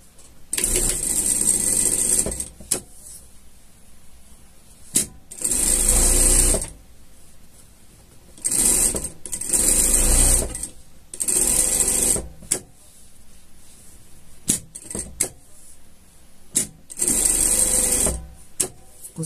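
Sewing machine topstitching a padded pet vest, running in several bursts of steady, fast stitching of one to two seconds each, separated by short pauses, close and fairly loud with no talking.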